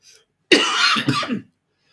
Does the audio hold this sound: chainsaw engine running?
no